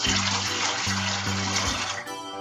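Water pouring into a big stock pot, four cups for making homemade laundry detergent, a steady close splashing stream with a rising tonal fill, alone without talk.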